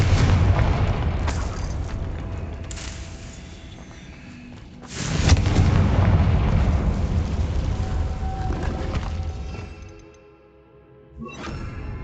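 Confringo fire spells from the Hogwarts Legacy video game blast as heavy booming explosions, one big burst mid-clip and another near the end, over a dense rumbling game soundscape.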